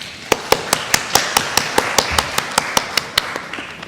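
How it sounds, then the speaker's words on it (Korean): At an academic conference on a Korean book reissue, a speaker is welcomed with clapping: about eighteen crisp, evenly spaced claps from a single pair of hands, close and loud, with no voices. "박수로 모시겠습니다."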